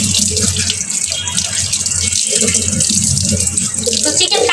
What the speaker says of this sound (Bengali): ভালো করে প্রথমে ধুয়ে নিলে হয় এরকম আস্ত মুরগিটা